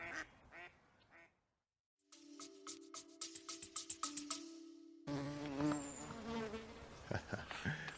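Bees buzz around Himalayan balsam flowers in loud, pulsing drones close by, followed by a busier stretch of mixed outdoor sounds.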